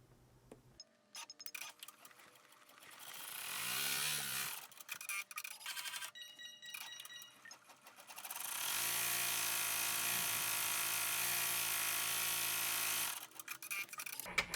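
A home embroidery machine stitches out a tack-down line in rapid mechanical bursts, its buzzing needle rattle starting and stopping, then running steadily for several seconds before halting, quiet and close with no talk.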